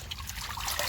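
Harvested spinach being rinsed in water beside a hut over a tilapia pond, a soft steady trickle of running and splashing water at close range, with no voices.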